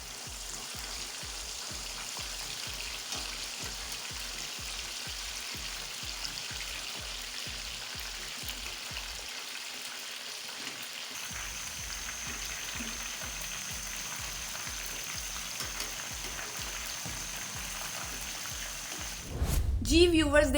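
Whole Lahori chargha chicken frying in very hot oil: a steady, close crackling sizzle runs throughout, with a regular low thumping pulse beneath it and a louder burst of sound right at the end.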